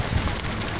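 Extreme hailstorm pounding an off-grid camper in Atok, a dense continuous clatter of hailstones drumming on the roof and surfaces, loud and close throughout.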